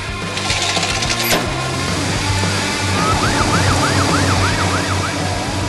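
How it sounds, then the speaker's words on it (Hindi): A police car siren wails in a rising-falling cycle over city traffic noise, loud and close, following a sharp clattering knock early on. "पुलिस की सायरन गूंजती है"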